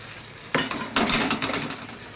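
Meat sizzling in hot oil with yogurt as a spoon stirs it, loud crackling that jumps in with a clatter and keeps frying steadily.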